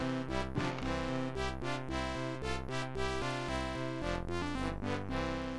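Upbeat, bouncy music loop from the video game Jack in the Dark, a child-friendly promotional spin-off in the Alone in the Dark horror series, with a steady rhythmic bass and bright melody playing loud and alone throughout.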